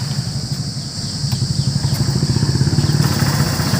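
A Hero Super Splendor Xtec 2.0 motorcycle idles close by after starting, its engine giving a quiet, even putter with a steady rapid pulse and no talk over it.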